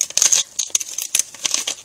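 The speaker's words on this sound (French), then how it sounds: "avec les ciseaux crantés" Paper being cut into a spiral with pinking scissors, giving a quick run of close, crisp snips and rustles with brief pauses between cuts, no talking.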